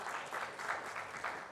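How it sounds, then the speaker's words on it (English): A summit audience gives a brief burst of applause for Dr. Kirit Parekh, with quiet, slightly distant clapping that swells and fades in a short wash. "Shouldn't we give him a big round of applause for it?"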